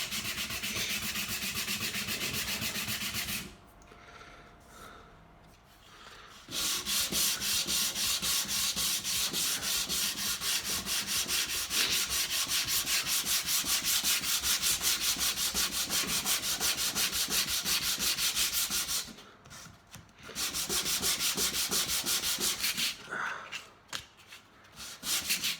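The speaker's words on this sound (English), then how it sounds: "A couple of bits that need a little bit of extra sanding." Wooden shelves being sanded: a loud, steady, close-up abrasive rubbing runs in long continuous passes, broken by a few short pauses.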